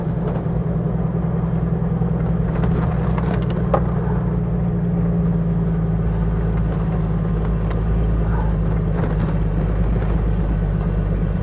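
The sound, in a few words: Jeep YJ engine climbing an icy hill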